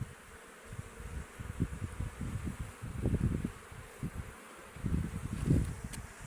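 Bees buzz steadily around a hive at 2,300 metres altitude, a dense droning hum that swells and fades in waves, moderately close with no voices.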